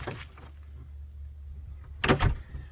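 A truck door is worked open: soft clicks and handling noise give way to a louder burst of latch and door movement near the end, heard close up with no talk.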